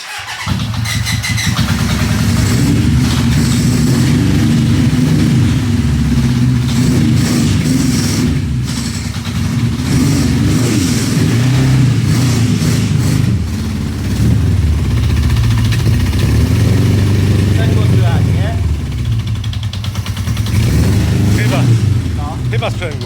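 A Honda CB750F motorcycle engine, checked for a clutch-area knocking, is started and left running, giving a loud continuous low rumble with slight rev fluctuations that carries on steadily throughout.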